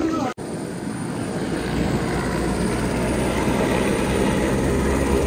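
A helicopter at a crowded helipad on the Manimahesh Yatra route gives a loud, continuous droning rotor and engine roar that holds steady after a brief cut at the start.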